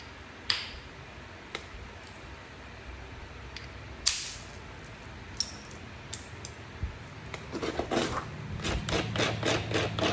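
Stone struck and gouged while shaping a stone handle in flintknapping, sharp isolated clicks and taps at first, then a quicker run of close scraping, grinding strokes near the end.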